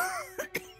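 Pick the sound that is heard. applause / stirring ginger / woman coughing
woman coughing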